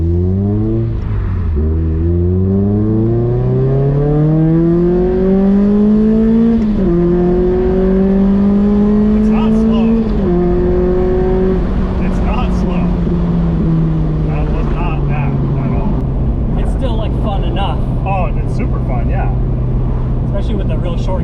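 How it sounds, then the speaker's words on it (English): Mazda Miata with a six-speed gearbox accelerating hard without nitrous, the engine note climbing loudly through the gears with pauses at each shift, heard from inside the car and ending in a steady drone. "I need you to feel how slow this car is with no nitrous, so you have a good contrast."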